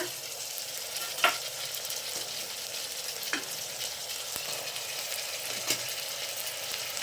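Onion, capsicum and cabbage frying in a pan for bisi bele bath: a steady, close hiss of sizzling oil, broken by a few light scrapes and clinks of a stirring spoon, with no voices.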